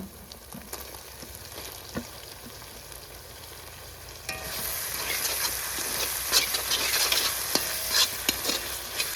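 Tomatoes sizzle in hot oil while being stirred in a pan for pepper chicken gravy, with an even frying hiss and scraping stir sounds that grow louder partway through.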